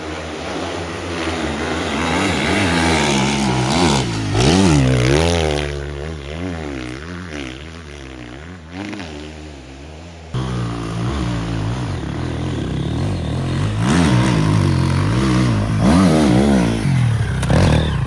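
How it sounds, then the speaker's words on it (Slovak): A Triumph TF 250-E enduro motorcycle engine revs and drones continuously with a rising and falling gearbox whine, loud and close, shifting pitch through gear changes. "keď ti hučí tá prevodovka, ale nie že hučí, ale tak príjemne sviští"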